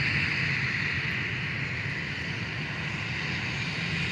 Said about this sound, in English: That was another very early takeoff